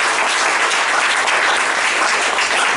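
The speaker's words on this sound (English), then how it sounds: "Give yourselves a round of applause for that." Dense, sustained applause from an audience at a social night speech event, loud and even from start to finish with no talking over it.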